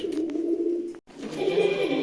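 Nearby desi pigeons of several breeds, pairs sitting on eggs, coo in soft, rumbling phrases. One call breaks off briefly and another murmuring coo follows.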